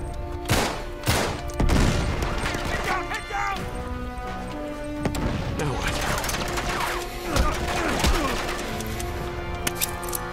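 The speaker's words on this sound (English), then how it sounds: "Grenade!" A grenade blast and bursts of gunfire in Uncharted 3 hit loud and close, with sharp crashing impacts and irregular shots scattered through a chaotic firefight.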